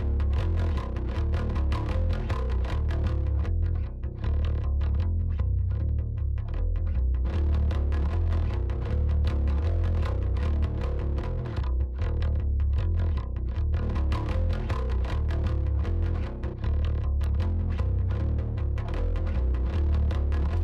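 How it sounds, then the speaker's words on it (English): Aggressive distorted bass guitar playing a steady line, gnarly and gritty at first and then cleaner once the distortion track is removed, loud and continuous with no voices. "You can hear all of that gnarly, mean tone is being generated by this bass distortion track."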